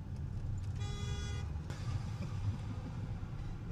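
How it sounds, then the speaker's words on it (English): A car horn sounds in a steady tone for about a second, ringing over the constant low rumble of a moving car's interior. "Is he honking at me?"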